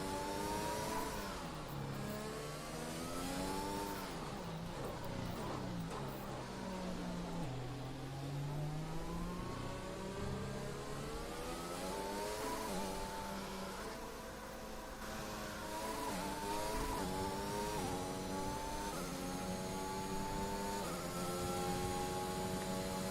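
Formation lap in the F1 2021 video game at Abu Dhabi: a steady, continuous whine of F1 engines, revs rising and falling through gear changes as several cars run together, no voices over it.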